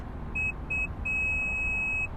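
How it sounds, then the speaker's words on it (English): A 2021 Mazda CX-9 liftgate height-setting chime: two short electronic beeps followed by one long steady beep, clear tones over a low rumbling background. "You'll hear the 3 beeps. You have to wait for the long beep."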